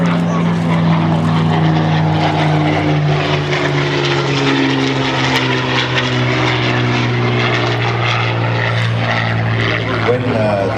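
A Supermarine Spitfire's piston engine runs on the ground at an airfield, a loud, steady propeller drone with strong low harmonic bands that holds constant for the whole stretch.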